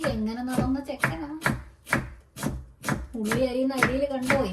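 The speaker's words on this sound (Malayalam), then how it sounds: "ഉള്ളി അരിയുന്ന അരിയില് കണ്ടോ?" Onions chopped on a board, sharp knife strokes at a regular rhythm close by, with a steady tonal hum running under them.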